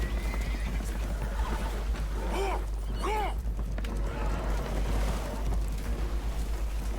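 Frightened horses aboard a boat taking on water in Red Dead Redemption 2 whinny twice in shrill, rising neighs over a steady low rumble and wash, with faint hoof clatter.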